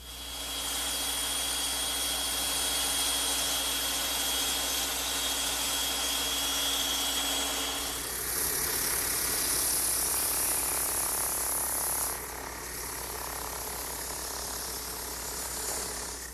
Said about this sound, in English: I'll cut it on my bandsaw.